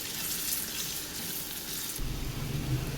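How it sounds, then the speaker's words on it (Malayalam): Turmeric pickle mix sautéed and stirred in a pan, a steady sizzle with soft scraping and a heavier low rumble in the last second. "നല്ലതുപോലെ ഇളക്കി മിക്സ് ചെയ്യാം"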